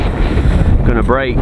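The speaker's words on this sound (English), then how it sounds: "You can see how windy it is." Strong gusts of about 25 mph buffet the microphone outdoors at a model aircraft launch, a loud low rushing roar through the whole moment, with someone talking over it at the end.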